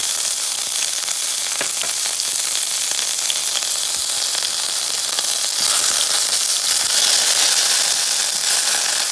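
Sofrito frying in olive oil in a very hot pot, a steady bright sizzle and crackle running continuously and close, with no talking.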